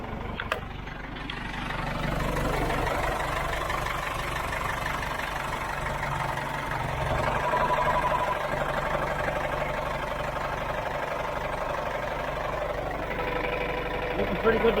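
A John Deere JD410 backhoe engine, with a repaired pressure control valve, starts and settles into a steady, loud idle close by, a continuous rumbling drone that holds evenly to the end.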